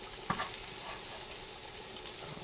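Sauce simmering in a frying pan with a quiet steady sizzle and a single faint knock of a utensil, no talking.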